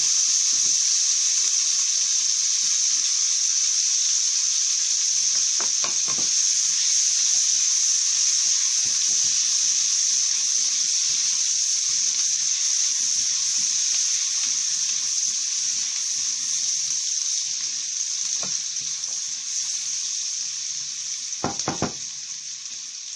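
Bay leaf and chillies sizzling in hot oil while cooking lauki with Punjabi vadi, a steady close frying hiss lasting throughout with a few brief stirring clatters and no talk.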